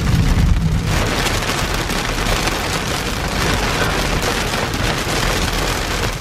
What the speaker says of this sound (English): here's the rain